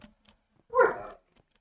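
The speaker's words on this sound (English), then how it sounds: "Could also go for the dog, you know, not making those noises while I'm recording." A dog makes a brief whining, vocal noise indoors near a microphone, a single short moan-like sound surrounded by near silence and faint clicks.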